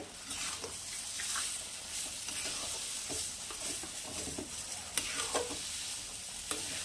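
Dal being stirred and mashed with spices in a hot pan over low heat, a steady sizzling fry under repeated scraping and stirring strokes, close and continuous with a few sharper clinks.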